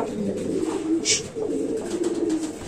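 Pigeons coo softly and continuously in a loft, a low murmuring drone with a brief sharper sound partway through.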